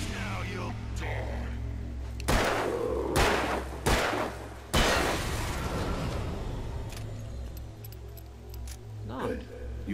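Gunshots in the video game Alan Wake: a few loud, sharp blasts in quick succession around the middle, surrounded by a voice speaking and low ambient drone.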